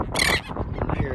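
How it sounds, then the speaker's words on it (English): Birds calling near the Matanzas Inlet bridge in St. Augustine, Florida, a loud harsh squawk followed by a clutter of overlapping chattering calls at close range, with a voice briefly mixed in. "What kind of birds are these? They make an annoying sound."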